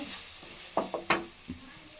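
Gobi Manchurian stirred in a pan with red chilli powder: a few quick scraping, sizzling strokes, close and fairly quiet, with brief pauses between them.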